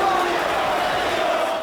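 A loud, steady crowd roar from the football video game Azure Latch fills the whole short stretch without a break.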